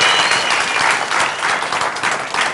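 A crowd claps steadily and loudly for a couple of seconds, a dense wash of applause with no voices on top.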